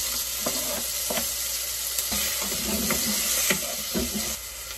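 Okra and tomatoes fry in a pan with a steady, close sizzle and hiss, broken by several soft clicks and scrapes of stirring.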